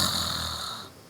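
A person snoring inside a mosque: a single drawn-out, raspy snore, fairly quiet and fading toward the end, heard alone without talk.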